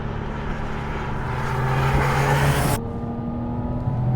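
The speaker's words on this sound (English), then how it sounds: "There's the second turbo cutting in. So sequential turbochargers in these." A Porsche 959 engine with sequential turbochargers pulls hard under acceleration, a loud rising drone with whirring turbo tones before the note drops as the gear changes, heard from inside the car without talk.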